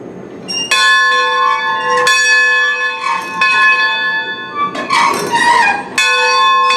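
A large bell at a railroad museum rings loud and close in repeated strikes, each ring sustaining and overlapping into the next, about six clangs in a steady rhythm.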